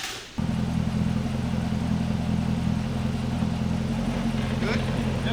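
A car engine on a dyno starts abruptly and runs as a steady, loud, continuous mechanical drone, holding an even idle-like hum with faint clatter throughout.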